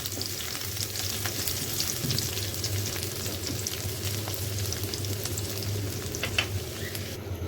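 Cumin, garlic and onion sizzle in hot oil for a tempering, a loud, steady crackling fry with sharp spits and pops, close by and without talk.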